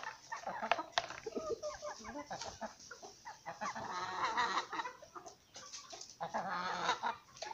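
Hens cluck and squawk in a rural farmyard, close by and repeated in irregular bursts, with faint background noise between the calls.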